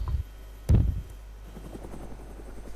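A helicopter in the video game DayZ gives a steady rotor hum throughout, with a couple of loud low thumps near the start.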